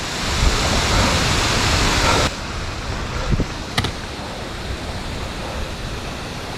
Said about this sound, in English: I don't even know if this is going to even come out on the film with all this rain falling on the lens